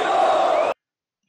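A loud burst of cheering from a football crowd at a Canto do Rio FC Carioca Série D semifinal, a dense roar of voices that cuts off abruptly into silence after under a second.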